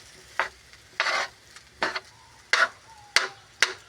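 Corn fried rice being stirred in a pan, about six separate scraping and sizzling bursts in an even rhythm with quiet gaps between them, close and fairly soft, no talking.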